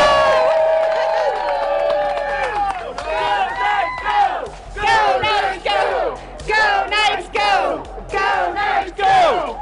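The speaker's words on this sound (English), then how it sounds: "this big group of people cheering for the Golden Knights" A large crowd cheers and yells for the Golden Knights hockey team ahead of game 5 in downtown Summerlin, with loud bursts of whooping and shouting rising and falling throughout.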